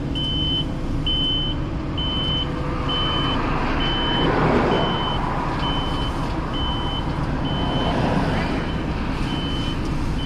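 Reversing beeps from a Henry Construction vehicle backing up at a street site by the old Boleyn Ground, near a delivery truck: a loud regular series of evenly spaced tones over continuous engine rumble and traffic noise.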